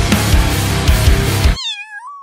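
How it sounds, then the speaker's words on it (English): A kitten found in an old barn gives a clear, drawn-out meow near the end, rising and bending in pitch, following a burst of noisy rustling and handling sounds; it stands alone and close. "But then also I found a kitten."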